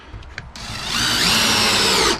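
A power drill drives a 1.5-inch screw into a pressure washing rig inside an enclosed trailer: a couple of faint clicks, then a loud rising whine that holds steady for over a second and cuts off abruptly.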